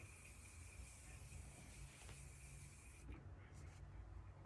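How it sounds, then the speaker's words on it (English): Setting spray mists onto a face as a soft, steady hiss for about three seconds, then cuts off, leaving quiet room tone. "So I'm just going to spray my face."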